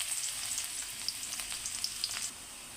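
Chopped green chilies and garlic fry in a pan with a faint, steady, crackling sizzle and small pops. No one speaks.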